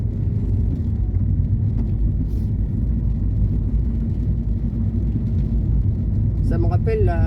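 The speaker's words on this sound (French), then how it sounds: "c'est un diesel. Donc le diesel," Diesel car engine running while driving, a continuous low rumble heard from inside the cabin, steady throughout, with a voice starting at the end.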